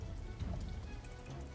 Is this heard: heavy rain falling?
yes